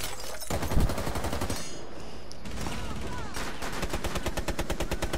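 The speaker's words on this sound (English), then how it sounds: "Dude, how many times do I have to shoot him?" Rapid automatic gunfire rattles in Rainbow Six Siege, close and loud in dense bursts, with a brief pause before the firing picks up again in steady rhythmic shots.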